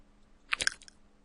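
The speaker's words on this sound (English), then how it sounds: "that's my mouth making shocking noise" A short burst of wet mouth clicks and smacks, close and quiet, lasting under half a second with no words spoken.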